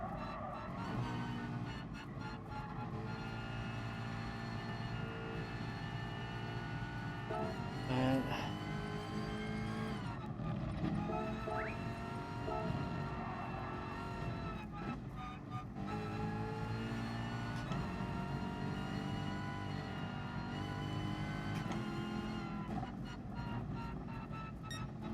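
A race car lapping a circuit in GT Sport roars continuously with a high, strained engine whine that rises and falls through gear shifts and corners over about twenty-five seconds, with no talk.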